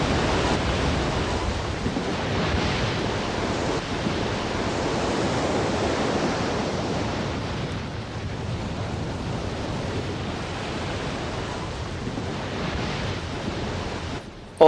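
Ocean waves from tsunami footage roar continuously for about fifteen seconds, a loud, dense rushing surge with slight swells and no voices.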